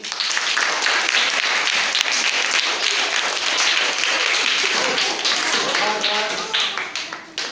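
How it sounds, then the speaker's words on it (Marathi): A group of people applauds during a paper cap-making session, a dense, steady clapping that fills the whole stretch and fades slightly at the end, with voices mixed in. "चला आता टाळ्या वाड्यांनी"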